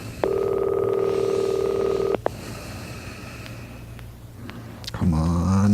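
A telephone in a radio drama gives a long steady tone, followed by clicks and a quieter stretch of line hiss, then a new burst of sound at the end.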